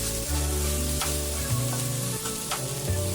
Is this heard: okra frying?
yes